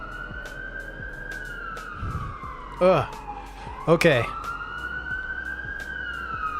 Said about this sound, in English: Sorry about the sirens too.